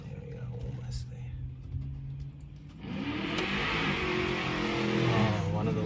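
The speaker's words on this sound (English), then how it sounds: "one of the lovely neighbours is testing out their tyres" A neighbour's car nearby spins its tyres and revs, a rising whirring roar that swells in the second half of the clip over a steady low engine drone, with soft voices underneath.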